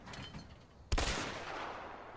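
Marksman rifle fire in the video game A Way Out: one sharp, loud shot partway through, followed by a lingering rumbling tail and quieter ambient game noise around it.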